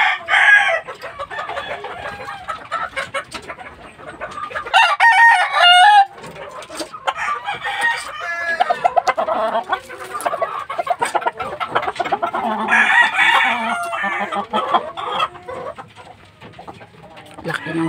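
A fighting rooster, a gamefowl, crows loudly and clucks close by, with repeated calls and bursts of clucking spread across the recording and some people talking nearby.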